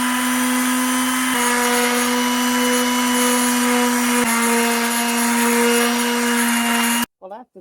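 Power sander working on wood in a cottage: a steady, loud motor whine that shifts pitch a couple of times, running continuously for about seven seconds before stopping abruptly.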